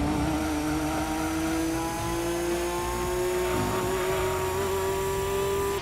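A race car engine in the Gran Turismo 2 video game holds a steady, high-pitched whine at sustained speed, loud and continuous throughout with no talking.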